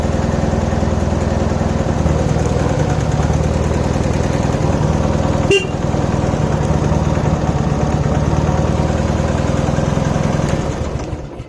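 Dnepr MT10-36 motorcycle engine idling steadily after a long standstill, a loud, continuous low throb with a faint knock, close by and alone, fading briefly at the end.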